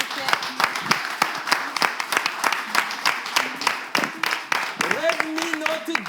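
Audience applause at a live event in Togo, dense clapping across the whole span at steady volume, with voices and tonal sounds layered underneath near the end.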